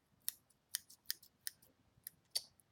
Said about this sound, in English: And some scissors. I just got black handy dandy scissors.